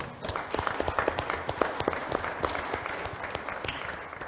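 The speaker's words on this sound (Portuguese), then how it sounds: "eu vou solicitar uma salva de palmas aqui para os nossos palestrantes" An audience applauds the speakers at the close of an international waterway transport and development seminar, a steady round of many hands clapping that fills the room and then gradually tapers off.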